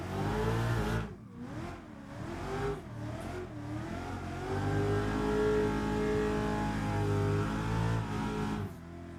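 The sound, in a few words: car engine revving into drift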